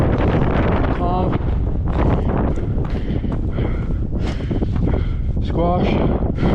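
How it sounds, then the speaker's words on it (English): Strong wind buffeting a microphone on an exposed Nevada desert ridge on a mountain bike trail, a loud continuous rumbling roar with gusty swells throughout and no clear break. "We're trying to wait on the wind so we can hit this drop, but it's just not stopping."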